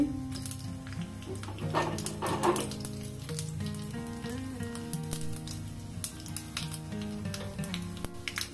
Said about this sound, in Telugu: ఆవాలు జీలకర్ర వేసానండి.